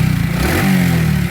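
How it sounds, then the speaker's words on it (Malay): A motorcycle exhaust on a Taycon Afaz Kencana Sport FI revs briefly, a low throaty rumble that rises in pitch partway through, close by and loud. "aku dengar bunyi exhaust dia"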